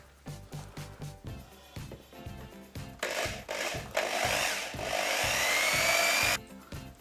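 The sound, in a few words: drilling through plastic speaker cabinet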